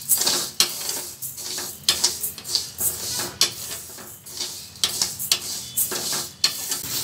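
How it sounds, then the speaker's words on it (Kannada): Horsegram roasting dry in a pan, with a low sizzle and crackle under repeated rhythmic scrapes of a spatula stirring the grains, loud and close, with no talk. "ಸ್ವಲ್ಪ ಚಟಪಟ ಅಂತ ಸೌಂಡ್ ಬರಬೇಕಾದ್ರೆ ಹುರುಳಿಕಾಳನ್ನ ನಾವು ಎತ್ತಿ ಒಂದು ಪ್ಲೇಟ್ ಖಾರಕ್ಕೆ ಹಾಕ್ಕೊಳ್ಳೋಣ"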